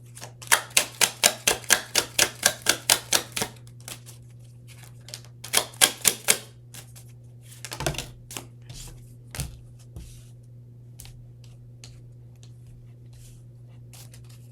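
Tarot cards being shuffled and drawn, a rapid run of about a dozen crisp, evenly spaced card snaps, then a few more in a burst and scattered softer slides and taps over a low steady hum.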